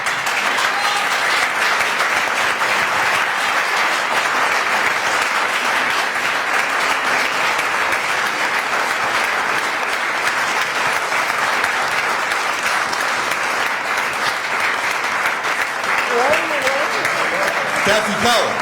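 Sustained audience applause at a literary talk in La Palma, a dense, steady clapping that fills the room for nearly twenty seconds, with a few voices emerging near the end.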